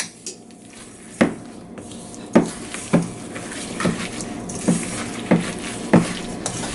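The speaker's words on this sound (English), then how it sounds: "And now we'll mix all of this together" Berry crumble topping with honey being mixed in a bowl, a string of wet squishing stirs and scrapes landing roughly every half second to second, close and moderately loud, with no voices.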